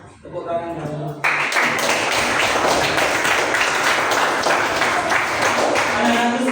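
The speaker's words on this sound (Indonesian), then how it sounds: "Tepuk tangan dulu." Sixth-grade children clap their hands together in a classroom, a loud burst of collective applause that starts abruptly after a short spoken lead-in and keeps going steadily to the end.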